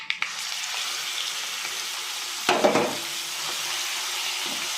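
Ivy gourd chutney dropped into hot oil tempered with salt and red chillies, a steady loud sizzle and frying hiss with a sharp surge as it hits the pan, plus light stirring scrapes.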